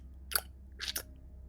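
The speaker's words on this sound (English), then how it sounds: "proceeded to eat a piece of chicken noisily." Noisy chewing of a piece of chicken, two or three close, wet crunching bites spaced about half a second apart, over a low steady hum.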